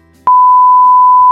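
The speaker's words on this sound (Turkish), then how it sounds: "Funda iPhone 11'in çalıyor." An iPhone 11 rings with a loud, steady electronic tone that starts abruptly and holds unbroken, close and alone with no talk.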